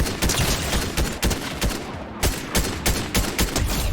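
Rapid bursts of gunfire from a Fortnite-style shooter video game crack in quick succession, loud and close, with short gaps between volleys and no talking.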